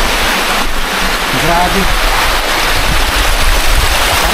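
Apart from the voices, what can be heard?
strong rushing water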